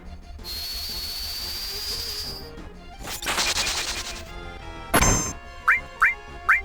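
The Bolt spell in Final Fantasy VII on PC bursts out as a high, whistling charge, then crackling electric crashes and a sharp zap, followed by three quick rising chirps.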